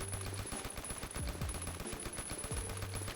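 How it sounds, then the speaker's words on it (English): Suppressed M60 machine gun fitted with an oil filter and firing quiet ammunition in Phantom Forces: a steady burst of muffled, soft thumping shots, fairly faint and continuous through the whole stretch, with no voices. "Another very quiet gun is silent and oil filter on the m60."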